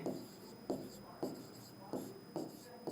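Chalk or marker strokes as a surface-area formula is written on a board, four evenly spaced scratching strokes over a faint steady hum, quiet and close.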